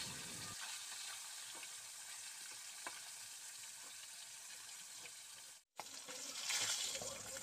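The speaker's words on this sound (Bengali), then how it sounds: "মাছগুলোকে এইভাবে উল্টে পাল্টে কিন্তু লাল লাল করে ভেজে নিতে হবে" Katla fish pieces fry in hot oil with a soft, continuous sizzle. It cuts out briefly, then returns with some stirring and turning.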